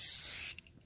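Aerosol spray can hissing onto a custom foam mascot head, one steady close burst for about half a second, then cut off, leaving a few faint clicks and near silence.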